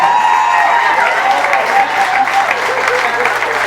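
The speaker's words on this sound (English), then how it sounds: "So ladies, give yourself a big round of applause" A comedy-club crowd at a stand-up special gives a loud, dense round of applause that holds steady from start to finish.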